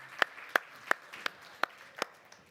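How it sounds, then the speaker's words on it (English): Audience clapping at a live prop-firm trading expo in London, heard as a thin, quiet scatter of about six separate claps spread over a couple of seconds rather than full applause. "Yeah, round of applause again."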